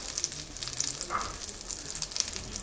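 Gingerbread slices frying in butter in a pan, giving a steady close sizzle with crackling bubbles throughout.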